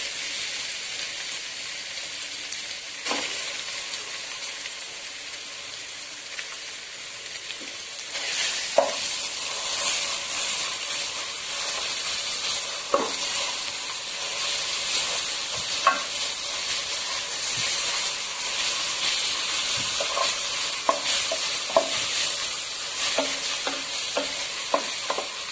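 Bottle gourd frying in ghee in a pan, a continuous bright sizzle and hiss that grows busier partway through, with repeated scrapes and clinks of stirring over roughly twenty-five seconds and no talking.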